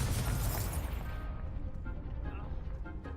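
A Confringo blast spell in Hogwarts Legacy bursts loudly at the start and its rumble fades over a few seconds, with a voice audible beneath the dying boom.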